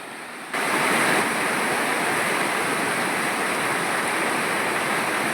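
Floodwater in a rain-damaged farm field is pushed along in a steady, loud rushing wash that starts abruptly and continues without break, with no speech over it.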